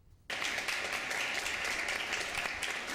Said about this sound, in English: Sounds of applause and cheers